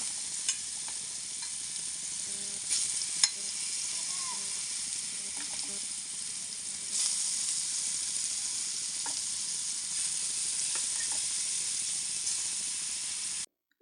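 Brinjal pieces dropped one by one into hot oil, Kannur-style eggplant fry, give a continuous loud sizzle with occasional stirring clinks and bursts, brightening as more pieces go in.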